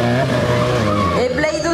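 A stunt car sets off around a circuit at a live stunt show, its engine revving loudly with tire squeal as it pulls away. A crowd announcer's voice carries over it.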